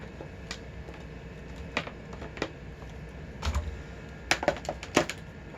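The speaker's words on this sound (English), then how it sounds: "Keyboard does seem to work good." Keys clatter on a Compaq LTE Lite 4/25E laptop keyboard during testing, a series of irregular close clicks in small bursts over a quiet background hum.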